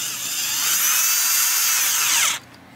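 A power drill whirs steadily as it drives new screws into a Gibson SG guitar, one continuous high-pitched run of about two seconds that stops abruptly, with no talk.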